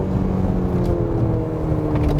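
A Mercedes-Benz GLC 300 4Matic engine running in sport mode, a steady low engine drone mixed with road rumble heard from inside the cabin, fairly loud and even without clear revving.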